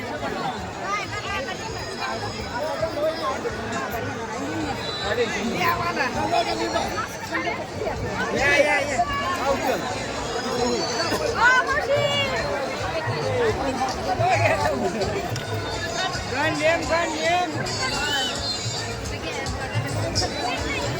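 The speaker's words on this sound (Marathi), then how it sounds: "लिमगंधासाठी सुद्धा खूप मोठी गर्दी असते इथे" A large crowd chatters in a dense, steady babble at the Yellamma Devi temple fair (yatra) in Kasegaon near Pandharpur, with many overlapping voices filling the whole scene.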